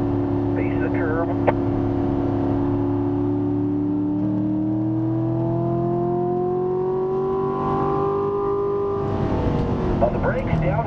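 Chevrolet Corvette C7 on a race track, its engine droning steadily at constant speed with a tone that rises slowly as the throttle eases, close and continuous under an instructor's talk.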